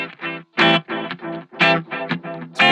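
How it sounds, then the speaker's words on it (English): Distorted electric guitar through a Roland Space Echo, short chopped chord stabs in a steady rhythm, each followed by a dull tape repeat, up close and loud without speech. "Roland space echo."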